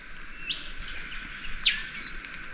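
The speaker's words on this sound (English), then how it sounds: "Birds are too quick, but you can hear them." Small birds chirp in short, quick calls over a soft outdoor hiss at Girraween National Park, Queensland, a few sharper tweets standing out near the end.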